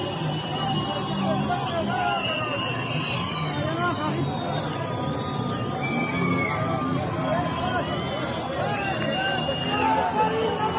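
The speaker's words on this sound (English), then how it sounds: "the crowd is cheering at the police" A large crowd at an Iran protest cheers at the police, a dense, continuous roar of shouting voices and whistles that stays loud and steady throughout.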